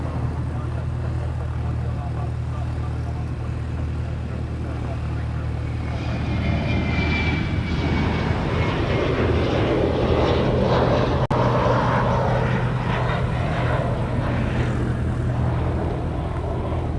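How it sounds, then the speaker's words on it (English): A Boeing 717 jet departs the reef runway at Honolulu, its engine roar building from about six seconds into a broad, sustained rumble that stays loud and steady through the end. "we have a 717 heading off the reef runway"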